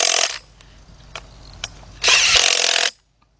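A power tool tightens fan assembly bolts during a water pump replacement on a GM SUV such as a Trailblazer or Envoy, giving two loud, short bursts with a few faint clicks between them.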